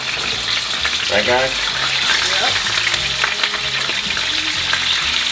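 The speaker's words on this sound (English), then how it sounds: "First we're gonna sear. We've got some tallow going. That's what we want, the sizzle." Loud, steady sizzling of lamb chops searing in hot tallow, a constant crackling hiss with someone talking briefly over it.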